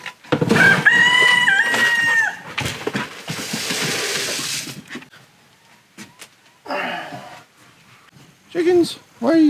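Backyard chickens cluck and a rooster crows loudly up close, with bursts of fowl calls between pauses while a person speaks and a dog pants nearby.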